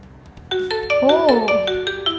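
A smartphone rings when located through the find-phone feature of a Xiaomi Mi Watch Lite smartwatch, a clear, fairly loud electronic ringtone with repeating pulsed tones and a swooping melodic figure, heard alone.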